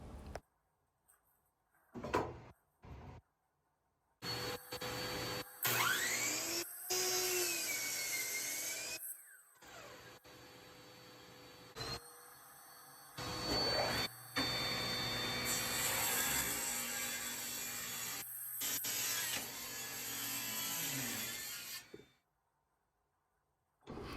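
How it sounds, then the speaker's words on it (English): A table saw rips 2x lumber into strips in a woodshop, with several bursts of loud high whining blade noise separated by abrupt silences and quieter stretches. "Then take it to the table saw and rip that into 1 1/2 inch pieces."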